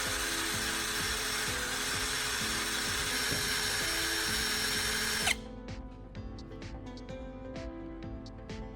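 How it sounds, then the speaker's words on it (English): A drill spins a carbon rod against sandpaper to sharpen its tip, giving a loud steady whirring grind that drops abruptly to a quieter motor hum with light scraping taps, close and without speech. "I'll secure the carbon rod in my drill and spin it against some sandpaper to sharpen the tip."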